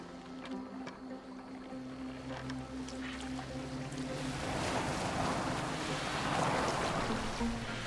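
A boat moving across water in the game Assassin's Creed Valhalla, with a steady wash of water and waves that swells louder in the second half, over a low sustained background tone and no talking.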